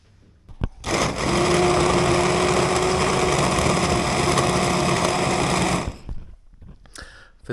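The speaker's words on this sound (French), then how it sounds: "Là, je vais aller mixer tout ça." An immersion blender whirs loudly while mixing hot chestnut jam, starting abruptly, holding a steady high motor hum for about five seconds, then cutting off, with faint clatter around it.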